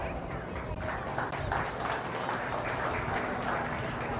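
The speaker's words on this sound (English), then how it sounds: "Let's give these guys a round of applause." A crowd at a county fair sheep and goat show gives a steady round of applause that holds through the stretch, with a faint voice running beneath it.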